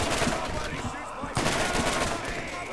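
In Borderlands, dense automatic gunfire clatters nonstop with a sharp heavy shot midway, loud and close, while voices talk faintly underneath.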